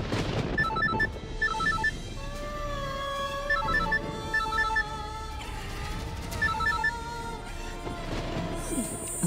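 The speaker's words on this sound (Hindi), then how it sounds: "पल्लवी का बार बार फोन आ रहा है" Phone ringtone trilling in repeated bursts of electronic chimes, over a dramatic music score in a Hindi TV serial scene, sounding several times without letup.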